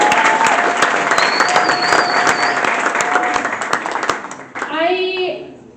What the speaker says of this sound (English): I wanted to give another round of applause for Aisha because that was incredible, right